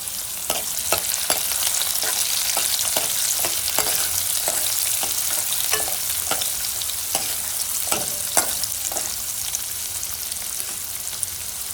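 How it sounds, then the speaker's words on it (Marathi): Onion sautés in a hot pan for ridge gourd aamti with a continuous loud sizzle, punctuated by regular sharp clicks of a spatula scraping and stirring throughout, with no talking. "थोडासा कांदा व्यवस्थित परतून घ्यायचा."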